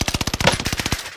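Rapid automatic gunfire in a military-style shooter video game, one loud sustained burst of evenly spaced shots lasting about a second and then cutting off.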